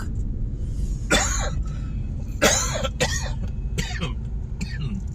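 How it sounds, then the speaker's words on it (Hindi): Several sharp coughs in short bursts, about five, spaced unevenly over a low rumbling street background at the Ghanta Ghar Chowk in Multan. "खांसी आई जा रही है मुझे खांसी"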